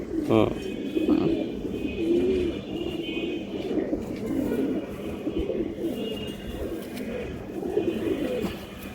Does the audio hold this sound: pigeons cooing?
yes